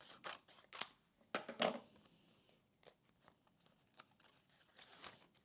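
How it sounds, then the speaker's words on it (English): Scissors cut through paper for a scrapbook page in a series of short, crisp snips and rustles, loudest early on and then fainter and more scattered. "Okay, so I'm going to cut this"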